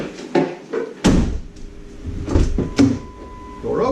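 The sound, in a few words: 2001 Mountaineer car door unlocking and opening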